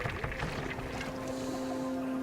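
Swan-shaped boat gliding across water in a park video game, a steady low hum with a sustained tone and soft watery wash, continuous and moderately close with no talking.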